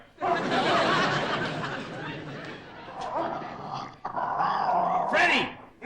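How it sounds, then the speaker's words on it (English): A dog growls and yaps through a bit of comic television studio business, with studio audience chatter and laughter mixed in. "The dog is barking."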